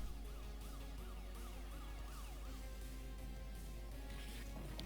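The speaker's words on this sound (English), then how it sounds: "It's the melting siren thing." A rising and falling electronic siren in the video game Super Robot Wars W wails repeatedly over dense game music and effects, loud and continuous.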